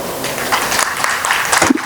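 Audience applause at a release event for a digital storytelling album: a dense, steady wash of clapping that holds for about two seconds.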